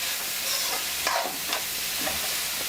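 Vegetables stir-fried for avakaya egg fried rice, sizzling loudly in a hot pan while a spatula scrapes and tosses them in several quick strokes, with no voices.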